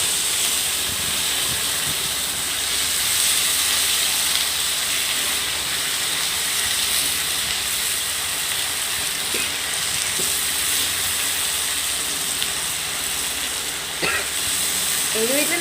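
Potatoes fry in an iron kadai with salt and crisped curry leaves, giving a steady broad hiss and sizzle throughout, with occasional faint stirring clatter and no speech.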